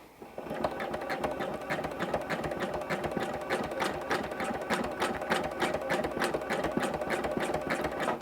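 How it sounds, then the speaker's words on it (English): A sewing machine runs steadily at a slowed pace, free-motion couching a cord onto appliqué with a zigzag stitch, its rapid even needle clatter loud and continuous throughout. "Make sure to slow your machine down a little bit, take your time, and adjust as needed."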